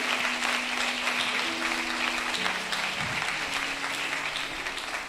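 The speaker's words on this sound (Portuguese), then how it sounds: "Aplaude, ele aplaude." A church congregation claps steadily during a worship service, the applause moderately quiet and continuous over sustained held musical tones in the background.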